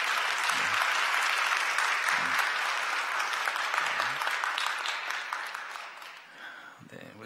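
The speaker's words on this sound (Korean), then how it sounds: "여러분들 건강에 잘 다녀올 수 있도록 박수 쳐주시기 바랍니다" Church congregation applauding together in a sustained burst of clapping that fills most of the clip, then tapers and fades near the end.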